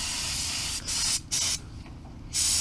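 Paint is sprayed onto a Bronco transmission in several close, loud hissing bursts, with brief pauses between the passes.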